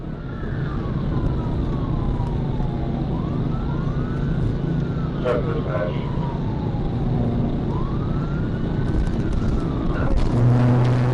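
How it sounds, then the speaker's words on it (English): A police siren wails during a freeway pursuit of a pickup truck, its sweeping tone rising and falling repeatedly over dense, loud traffic and engine noise, with a louder burst near the end. "Sirens lit up and the pursuit began."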